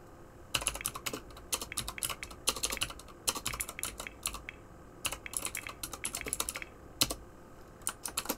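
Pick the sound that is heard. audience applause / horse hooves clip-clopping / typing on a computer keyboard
typing on a computer keyboard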